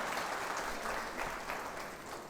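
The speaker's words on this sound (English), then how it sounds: "Then why don't you clap?" Students at a convent school clapping together in a steady burst of applause, dense and continuous for a couple of seconds.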